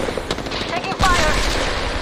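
A short burst of rapid machine gun fire in a video game, loud and close, swelling midway amid other game effects, with faint talk present.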